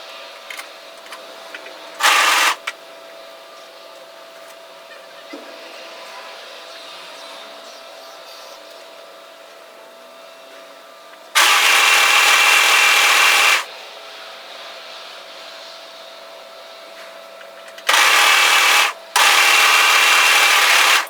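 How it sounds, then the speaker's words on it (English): An overlocker sews a hoodie's sleeves into place in a few loud bursts of motor hum and stitching, separated by quiet stretches of faint rustling fabric. "overlock serge the sleeves into place"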